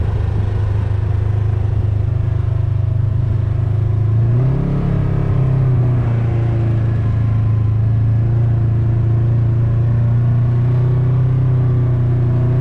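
A car's engine rumbles steadily and loudly from inside the cabin while riding along, a continuous low drone that briefly rises in pitch around the middle as it accelerates.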